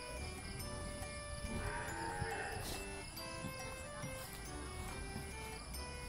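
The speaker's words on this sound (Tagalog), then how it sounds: "Kalabaw. Babaeng kalabaw." Female water buffalo (carabao) at a livestock stockyard, low bovine calls amid steady crowd and market noise, with faint voices in the background.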